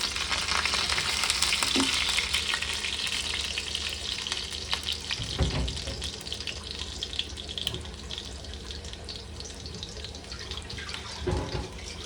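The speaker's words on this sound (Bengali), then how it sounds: "তো এই কড়াইতে আমি একটু অলিভ অয়েল দিয়ে দিয়েছি গরম হওয়ার জন্যে, অ্যান্ড হয়ে গেছে গরম। তাতে আমি একটু গার্লিক দিয়ে দিয়েছি, একটু গার্লিকটাকে সতে করে" Garlic sautéing in hot olive oil in a kadai, a dense continuous sizzle with occasional stirring scrapes, close and steady throughout.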